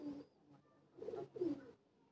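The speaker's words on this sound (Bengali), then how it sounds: "এটা হচ্ছে একটা চোখের লাইনের পায়রা," A pet pigeon of an eye-line breed coos close by in a few soft, low murmuring phrases, with two fuller coos near the end and brief quiet gaps between.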